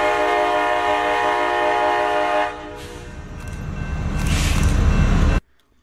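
K5LA raised-letter five-chime horn on an SD70AH-T4 locomotive at Napavine, sounding a loud sustained chord for over two seconds, then continuing amid louder rumbling rail noise before cutting off abruptly.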